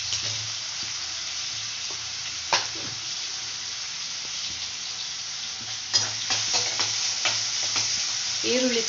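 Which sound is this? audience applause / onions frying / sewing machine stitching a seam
onions frying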